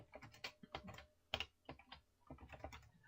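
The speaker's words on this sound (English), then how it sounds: "So I type in game name." Fast typing on a computer keyboard, close and clear, with bursts of key clicks and short pauses over a few seconds, no talking.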